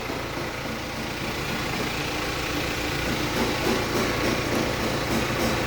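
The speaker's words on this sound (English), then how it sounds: "I'm doing a fuel injection cleaning now, pretty ethical. This is the equipment from Belgium." A fuel injector cleaning machine from Belgium runs with a steady mechanical hum and drone, close and moderately loud, and faint rhythmic ticking enters toward the end.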